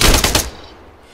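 Short burst of automatic gunfire in the military shooter Arma 3: several rapid loud shots in quick succession over about half a second, then a fading echo tail.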